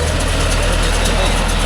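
A John Deere 5105 tractor engine runs loud and close with a steady low throbbing pulse, holding an even level without clear rises in revs.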